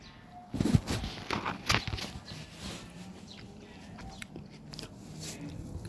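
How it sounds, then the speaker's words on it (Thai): Someone chews crunchy food close to the mic, with a cluster of sharp biting crunches early on that fade into softer, sparse chewing against quiet room noise. "อาจจะมีเสียงเคี้ยวอะไรด้วยนะ เพราะว่าตอนนี้กำลังกินเอ่อ"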